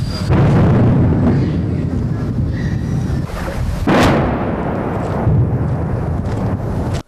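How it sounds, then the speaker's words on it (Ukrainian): Heavy, rumbling booms of Russian artillery roll in one after another, with a sharper blast near the middle, echoing over a dull continuous background during shelling near Bakhmut. "постійно чути роботу російської артилерії"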